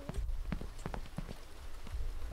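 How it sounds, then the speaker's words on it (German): Goat hooves clattering across the ground in the horror game Devour: a quick, uneven series of sharp knocking steps, fairly close and clear over a low background rumble. "jetzt hab ich diese Ziege losgelassen"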